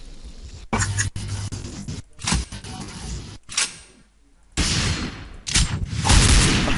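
Bursts of gunfire from the shooter game Point Blank, loud and up close, with sharp rapid volleys separated by short gaps and a heavier sustained barrage toward the end.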